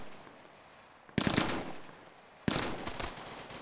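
Two sharp bursts of automatic gunfire ring out in an Arma 3 co-op firefight, each a loud, crackling volley that decays quickly. A low background hiss sits between them.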